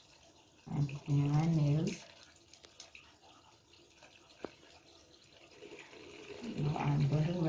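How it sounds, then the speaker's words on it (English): Steady tap water runs from a faucet as hands are washed, a low continuous wash beneath a person speaking. "Now I'm going to rinse bubble from my hands, making sure that all bubbles are gone."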